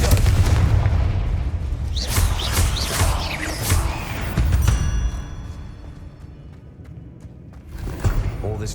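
Confringo fire-blast spells explode in the wizarding game Hogwarts Legacy: a run of loud, booming blasts with sharp cracks, then a quieter stretch before one more burst near the end.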